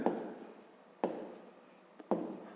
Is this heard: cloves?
no